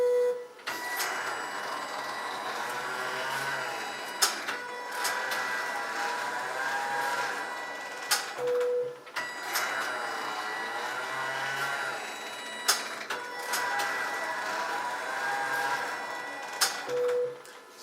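A Kniterate knitting machine casts on with main yarn: a steady mechanical whir repeats in carriage passes about every four seconds, with sharp clicks where the carriage reverses. It is close and fairly loud, with no talking.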